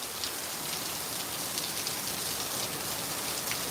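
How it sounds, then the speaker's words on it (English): Heavy rain pours down steadily, a dense, unbroken hiss of drops striking surfaces nearby. "rain is falling pretty hard now"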